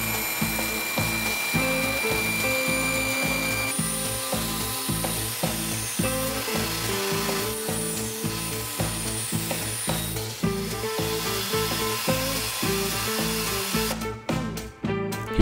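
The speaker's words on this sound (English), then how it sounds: "I then go rough cut it on the bandsaw." Bandsaw rough-cutting a piece of walnut for a spatula blank, a steady loud whirring drone with a rhythmic buzzing pulse throughout, close up, briefly changing near the end as the cut finishes.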